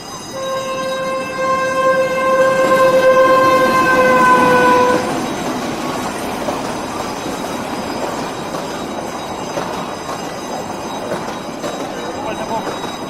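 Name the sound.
train arriving, sound effect in an audiobook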